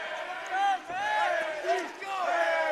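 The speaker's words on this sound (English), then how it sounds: "Now the chants are going the other way." A boxing crowd chants loudly in the arena, rising and falling rhythmic massed voices filling the room with overlapping shouts.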